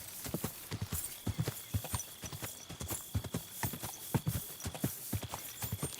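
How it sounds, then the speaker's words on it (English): Steady clip-clop of horse hooves at a trot as the rider travels through open countryside in Kingdom Come: Deliverance 2, rhythmic close footfalls with a thin faint tone running behind them. "it actually feels like I'm riding a horse out in the countryside"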